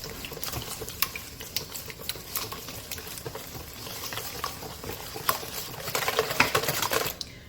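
Pan dulce dough with molasses being mixed in a bowl, a soft, continuous wet stirring and slapping with irregular little taps, quiet and close, with no talking.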